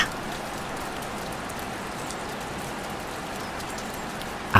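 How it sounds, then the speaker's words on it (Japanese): Steady rain falls on a morning at Ashinomaki hot spring resort in Fukushima, a continuous even hiss and patter with no voices over it. "雨が降っている。"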